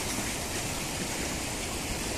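Sea waves washing against the shore during shore fishing make a steady, loud, unbroken rush of water noise with no voices.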